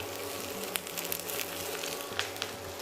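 Breaded frog legs fry in foamy butter in a very hot pan, giving a soft, steady sizzle with faint crackles and small spits, fairly quiet and without voices.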